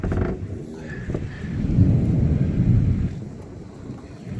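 A thunderstorm with wind passes over the Pirateland campground in Myrtle Beach. Heavy wind buffets the microphone as a steady roar, and a low rumble swells through the middle and then eases off.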